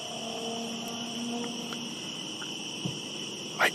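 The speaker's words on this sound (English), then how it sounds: "with only the sound of crickets breaking the silence" Crickets chirp in dark woods at night, a steady high-pitched trill running throughout at low volume, with a couple of faint soft knocks near the end and no voices.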